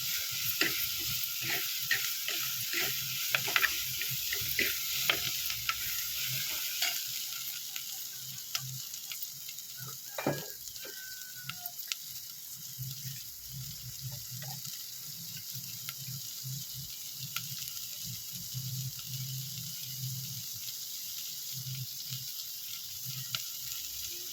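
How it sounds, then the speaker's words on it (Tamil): Onions and tomatoes with fenugreek, curry leaves and a little salt sauté in oil for a fish curry, a steady close sizzle with scattered spatula clicks and scrapes, busier at first and settling into a continuous frying hiss. "வெங்காயம் தக்காளி சேர்த்து நல்லா வதக்க போகிறோம்"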